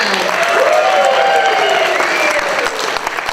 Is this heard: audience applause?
yes